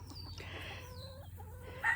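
Polish chickens clucking in a backyard near coops, a few soft close clucks and murmurs ending in a louder squawk, with no talking.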